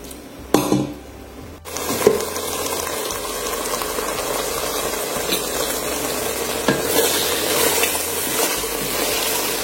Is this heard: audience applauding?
no